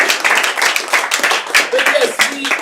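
Small audience at a live improv comedy show claps in a brief, scattered burst, individual hand claps audible close by, mixed with voices talking over them.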